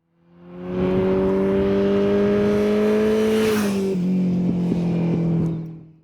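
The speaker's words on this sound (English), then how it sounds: "let's ride the Kawasaki Ninja 125, the Honda CBR600RR, and the Kawasaki ZZR1400 to find out" Motorcycle engine from one of a Kawasaki Ninja 125, Honda CBR600RR or Kawasaki ZZR1400, loud and close with a steady harmonic drone, rising slightly in pitch, then dropping as if easing off or shifting near the end.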